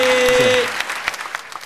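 Audience applause in a singing-competition studio, loud at first over a final lingering musical note, then thinning quickly into scattered, fading claps.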